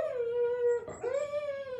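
A dog howls loudly and close in a long sustained wail, breaks briefly with a whimpering catch, then resumes the drawn-out howl alone.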